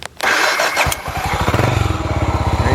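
A 1989 Honda GB 500 motorcycle, cold and on choke after years in museum display, is started: a brief starter whir, then the engine catches and settles into a loud, close, even thumping idle.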